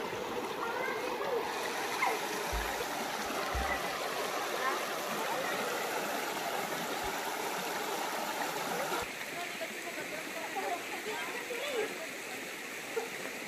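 Steady rushing water flows throughout, with a few low thumps and splashes early on; a voice talks briefly over the current.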